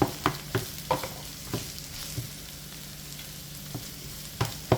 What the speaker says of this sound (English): so we're just going to allow that to saute